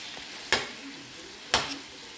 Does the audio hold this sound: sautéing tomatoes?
yes